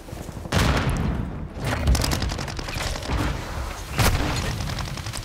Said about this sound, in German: Aber die Granate ging noch raus, ne?